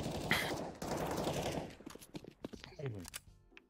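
Burst of AK rifle fire in CS:GO on the Mirage map, a sharp loud volley at the start followed by scattered in-game clatter and quieter shots, with players talking over it.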